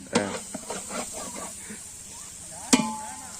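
Onions fry in a pan for chicken biryani. A soft, steady sizzle runs underneath a few sharp clinks and scrapes from stirring.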